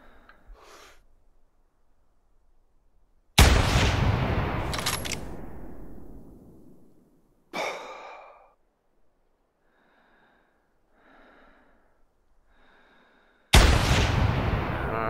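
Two sharp, loud rifle gunshots several seconds apart in the hunting video game theHunter 2017, each with a long rumbling echo tail, separated by quiet stretches with faint short noises.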